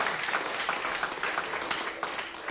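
A church congregation claps continuously during a sermon, a dense, steady wash of applause throughout, with no talking over it.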